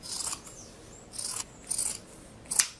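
Scissors cut fabric for a pair of shorts, giving three or four short, crisp snipping strokes close by in an otherwise quiet room.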